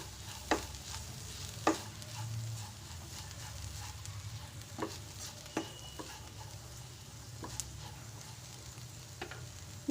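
Coriander powder being stirred into a pan of methi bhaji, with a low steady sizzle and scattered sharp scrapes and clicks of a spoon against the pan, fairly quiet and close, no voices.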